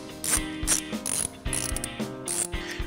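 A ratchet tightens bolts on the mount of a Forge diverter valve fitted to a VW/Audi 2.0T engine, clicking close up in several quick bursts of rapid pawl ticks with short pauses between strokes.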